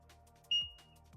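A multimeter gives a single short, high continuity beep when its probes are touched together during a PS5 repair. The beep stands out clearly against a quiet background.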